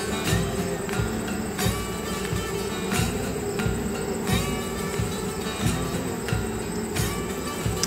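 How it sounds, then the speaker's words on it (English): Honey bees in a nuc, with the colony rejecting a queen, a dense, steady buzzing hum with rhythmic pulses, close and fairly loud, no talking. "This is how the bees will act when they are rejecting a queen."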